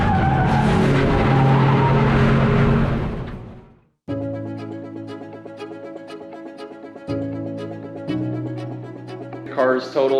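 Race car at a grassroots GRIDLIFE event skidding sideways toward a wall: a loud, dense roar of tires and engine that cuts off after a few seconds, then steady engine drone with shifting tones and a brief noisy burst near the end.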